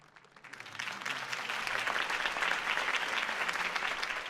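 A crowd applauds after Harvey Dent's campaign speech in the Batman Telltale video game, the clapping swelling up from quiet within the first second into a sustained, dense roar of hands.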